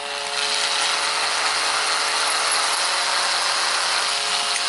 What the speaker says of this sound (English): So this little shell holder chucks into my drill.